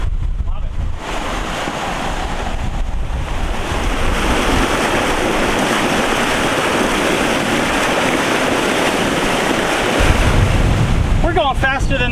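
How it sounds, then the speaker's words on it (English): A sailboat reaches at about 8 knots in 18 knots of beam wind. Loud, continuous wind buffets the microphone over rushing waves and water along the hull, with a brief voice near the end. "We're sailing. Like 8 knots in 18 knots of wind."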